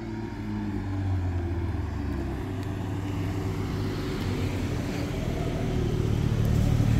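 A VW Golf 8 GTI and a BMW M135i xDrive launch from a standing start, heard as a continuous low engine rumble at moderate distance that swells slightly toward the end.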